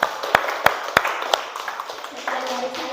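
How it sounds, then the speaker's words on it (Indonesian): Students in a classroom give a short round of clapping for their classmates, a few sharp claps at first that thin into scattered, fading claps over room noise. "Oke, kasih tepuk tangan untuk teman kalian."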